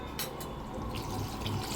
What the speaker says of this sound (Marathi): जेवढे आपल्याला रस्सा हवा आहे पातळ किंवा घट्ट तेवढं आपल्याला पाणी टाकून घ्यायचं आहे